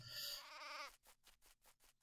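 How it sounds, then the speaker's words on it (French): Sheep bleating in the video game Craft The World, a short loud bleat followed by a run of evenly spaced clipping snips, as if shearing. "je peux tondre un ou deux moutons"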